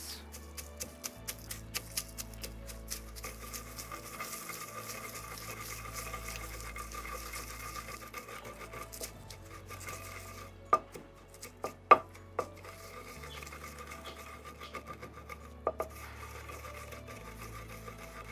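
Cooked dried pepper is pounded for Abacha (African salad), giving a steady run of quick, soft rhythmic thuds and knocks, fairly faint overall, with a few sharper, louder strikes midway.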